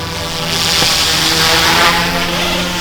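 YX F180 RC helicopter rotor and motor spinning up under throttle, a loud close rising whine that swells and holds steady, no voice.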